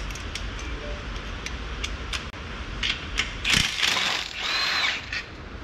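A ratchet clicks in quick bursts while loosening the last bolts on a 7.3 engine being pulled from a Crown Victoria, with metallic clatter in a garage and no talk.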